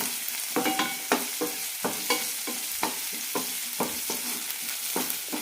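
Small onions sauté in a pan under a bright sizzle, stirred in a steady rhythm of roughly two scrapes per second, each stroke close and distinct.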